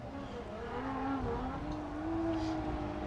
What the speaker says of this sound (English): Here's Garrett Denton in the burnout box, warming up his tires.